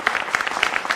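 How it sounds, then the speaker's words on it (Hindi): Studio audience clapping at a televised Bengal election debate, a short burst of quick, fairly close applause. "जनता जनार्दन, एक बार फिर आपके लिए बहुत सारी तालियां"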